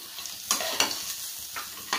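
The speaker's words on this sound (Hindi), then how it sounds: "इसको अच्छे से एक से दो मिनट के लिए भून लूंगी" Kanda poha roasts in a pan with almonds, quiet frying crackle broken by a few sharp scrapes of a spatula stirring against the pan, no talking.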